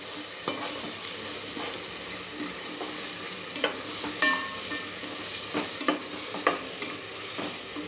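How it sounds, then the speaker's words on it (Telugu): Ginger garlic paste sizzles and fries in a pan while a spoon stirs it, with steady crackling and scattered scraping clicks throughout a vegetable pulao preparation. "అల్లం వెల్లుల్లి పేస్ట్ వేసి బాగా కలుపుకోండి, లేకుంటే అడుగు అంటుతుంది."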